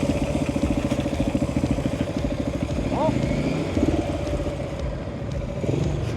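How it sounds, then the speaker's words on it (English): An Aprilia RS457 motorcycle with its stock exhaust idles and revs, a steady close engine rumble with a rising rev partway through and a voice speaking over it. "So this is for the stock exhaust."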